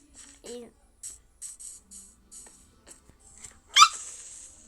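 Short barks and yelps from a dog in a video game, a string of separate clipped bursts at moderate volume, ending in a louder squeak-like yelp.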